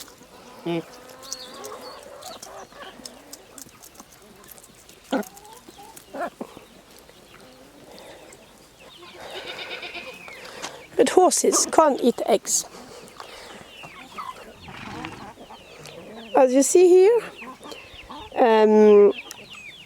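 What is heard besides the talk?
hens clucking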